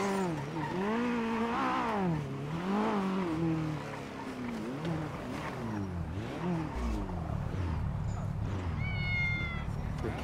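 A cat in the video game GTA, played on a roleplay server, meows repeatedly and loudly in drawn-out, wavering cries across the whole stretch, with brief game noises near the end.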